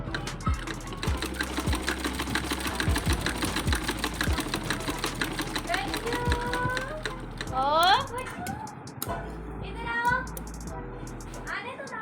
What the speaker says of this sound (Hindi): इसको सिलाई कर रही थी, तो साथ में मैं इसकी वॉइस नहीं बंद कर रही, कुछ ASMR आप भी सुनिए।